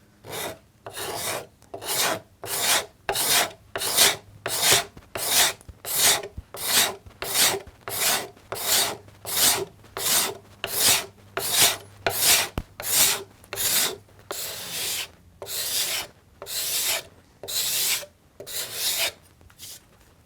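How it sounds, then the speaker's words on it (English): A card scraper takes repeated passes across end grain of a wooden workpiece through a knot: about two dozen crisp, rhythmic rasping strokes, close and loud, evenly spaced with brief gaps between them. "with a few passes from the card scraper, we can get this looking really shiny and nice"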